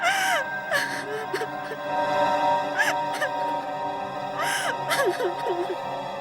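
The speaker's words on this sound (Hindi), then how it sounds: "ये तो किसी औरत के रोने की आवाज लग रही है।" A woman sobbing and whimpering, with wavering, broken cries and sharp gasping breaths, fairly close, over a steady background hum.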